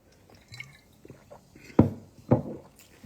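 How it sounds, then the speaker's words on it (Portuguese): A few quiet sips of water taken partway through a spoken morning meditation: faint rustling, then two distinct gulping, splashy swallows close to the microphone, with no talking. "deixa eu beber um pouquinho d'água."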